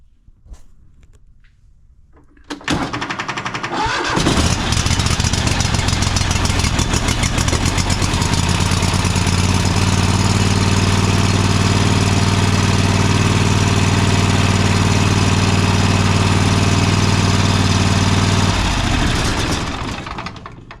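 A Toro Timecutter SS5000 zero turn mower engine, run with the choke manually engaged, cranks and catches, then runs loudly and roughly with a heavy throbbing drone for most of the clip before shutting down near the end.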